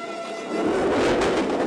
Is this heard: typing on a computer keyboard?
no